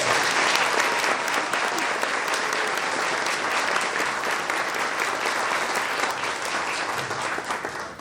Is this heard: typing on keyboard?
no